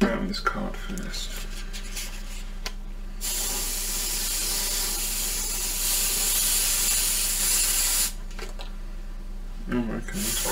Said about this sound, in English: Spray on this card first.